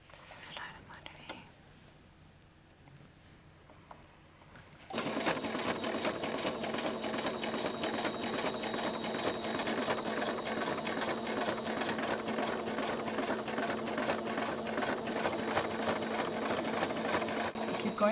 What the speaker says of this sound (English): Was that your first time using a sewing machine?